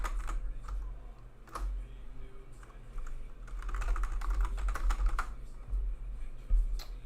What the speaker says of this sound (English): That's why I keep typing every time I look at one of the scores.